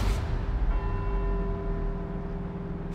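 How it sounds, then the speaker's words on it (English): Church bells ring with sustained, overlapping tones across a city scene in Edinburgh in Forza Horizon 4, a steady wash of tolling over low rumbling background, fairly loud and with no talking. "let's see if we can visit every bell tower in Edinburgh and get back here before they all stop ringing"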